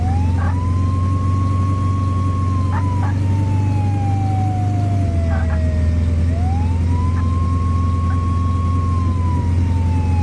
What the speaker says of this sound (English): Put the sirens on.